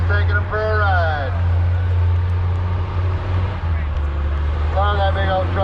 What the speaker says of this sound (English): Listen to that big old cat diesel sing.